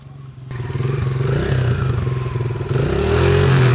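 A dirt bike idles with a rough, pulsing putter, then its engine revs harder and builds louder as the rider practises wheelies outdoors.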